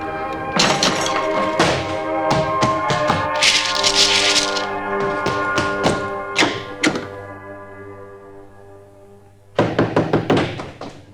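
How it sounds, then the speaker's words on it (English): Heavy wooden thumps and rattles in an audio drama of Treasure Island as a door is broken in, a loud cluster of blows with a splintering crash, a pause, then another burst of hits. "Break the door in, Dick."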